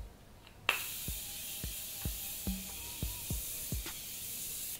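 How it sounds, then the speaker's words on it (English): A sharp burst of makeup setting mist sprayed on a face hisses once, followed by a series of soft clicks or taps under a steady airy hiss. "I just take my setting mist again and spray my entire face"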